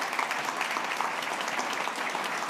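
Steady, dense applause fills a town meeting hall, an even wash of many hands clapping at once with no pauses, holding at a constant moderate level throughout.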